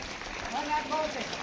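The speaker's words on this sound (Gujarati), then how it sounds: "કેવો વરસાદ છે માં" Steady rain falls on a village farmyard where cattle are sheltered, a soft continuous hiss with a faint voice underneath.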